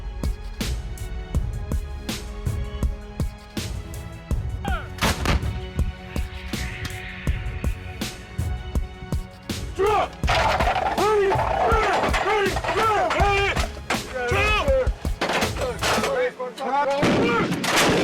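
Military artillery guns firing in combat, heavy booming blasts at irregular intervals with sharp cracks and rumbling echoes, shouted commands and voices audible between and over the shots.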